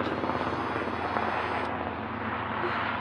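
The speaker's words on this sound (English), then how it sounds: "Helicopter!" Helicopter flying overhead in Brisbane, Australia: a loud, close, continuous rotor thrum and engine roar that stays steady across the whole stretch, with no talk over it.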